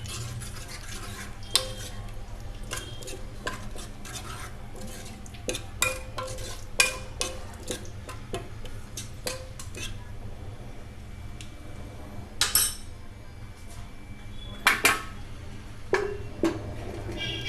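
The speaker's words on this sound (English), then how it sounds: "Mix the dal." A spoon stirs red gram dal in a cooking pot, giving scattered clinks and scraping knocks against the metal at an irregular pace, fairly close, over a low steady background hum, with no talking.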